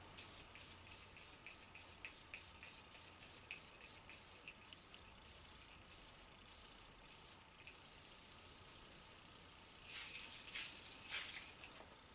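Short bursts of makeup setting spray misting onto a face hiss repeatedly in quick succession, then a denser, louder spray near the end; no voices.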